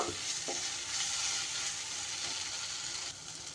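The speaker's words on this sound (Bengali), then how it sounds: "গরম মশলাটা দিয়েও একটু নাড়িয়ে চাড়িয়ে নেব" Garam masala being stirred into a spice paste frying in a pan, a steady loud sizzle with soft scraping strokes running throughout, no voices.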